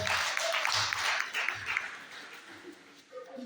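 A church congregation claps together during a Swahili-language service, a dense wash of applause that fills the room and gradually thins out, with voices mixed in.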